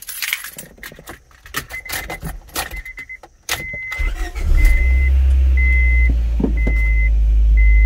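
Keys jangle and rattle, then a car engine cranks and starts after a hydraulic clutch bleed, settling into a loud steady idle with a repeating high beep chime over it.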